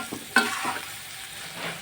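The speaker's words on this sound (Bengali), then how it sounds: "আর একটু কাঁচা লঙ্কাটা দিয়ে মশলাগুলো ভাজতে দেবে" Spices and green chillies fry over low heat with a gentle sizzle, broken by a sharp utensil scrape and a few softer stirring strokes; close and moderately loud, no voices.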